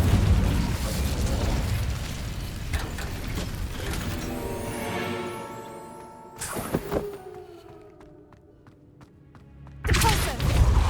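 Incendio fire spell cast in Hogwarts Legacy: a rushing, roaring burst of flame with mechanical clanks and a sharp pop, fading into a ringing tail before another loud burst.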